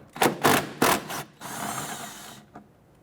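Ratcheting wrench loosening two 10mm bolts in the wheel well of a 1992-1996 Toyota Camry with the wheel removed: several short, close metallic ratchet bursts followed by a longer steady clicking run and one final tap.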